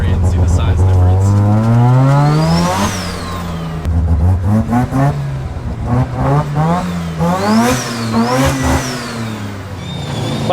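A rotary-swapped Datsun 1200 with boost revs hard while driving, its engine note climbing through several gears in rising sweeps, shifting and pulling again, loud and close with a buzzy, high-pitched whine.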